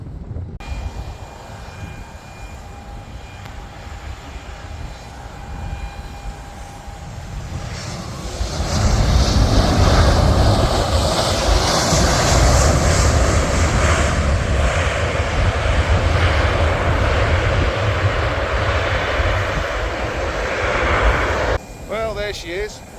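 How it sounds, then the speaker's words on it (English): A passenger airplane landing at Kefalonia airport at sunset, its engine roar building to a loud, steady rumble that stays heavy for over ten seconds before easing, heard from outdoors at a distance. "I'm assuming that's her plane."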